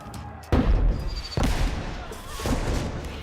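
Fireworks fired in London when the alarm goes off, three heavy booming blasts at intervals with long rumbling echoes trailing off in an open space.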